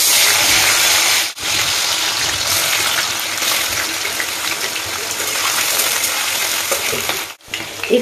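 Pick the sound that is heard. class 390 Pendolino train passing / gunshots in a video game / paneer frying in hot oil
paneer frying in hot oil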